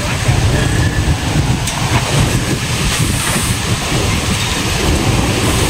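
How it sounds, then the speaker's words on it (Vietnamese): Heavy rain pours steadily during a storm in Can Tho, Vietnam, a loud dense roar of water and wind buffeting with no breaks throughout. "quay cảnh trời mưa ở tại khu vực Cần Thơ"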